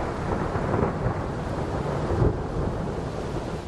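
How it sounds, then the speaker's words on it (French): Thunder rolls through a thunderstorm as a deep, continuous rumble that swells slightly toward the middle. It sits over a steady hiss of rain, with no voices. "Le tonnerre, c'est le bruit qui suit, provoqué par l'air qui se dilate brutalement sous la chaleur de l'éclair"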